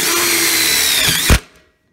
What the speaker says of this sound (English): straight into the muffler using the American made DeWalt